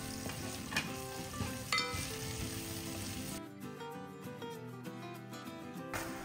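Chopped white onion sautéing in a frying pan for ginisang ampalaya, a close steady sizzle with stirring scrapes that drops to a quieter simmer partway through, with no voices.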